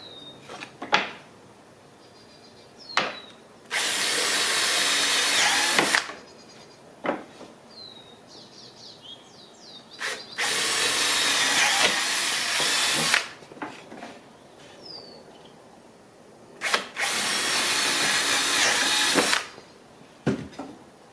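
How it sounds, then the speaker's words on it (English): A power drill bores a hole in wood for screws while building a bee vacuum, sounding in three loud, sustained bursts of about three seconds each, separated by quieter handling knocks and clatter. "I'm now going to drill a hole in here because I'm going to screw these down."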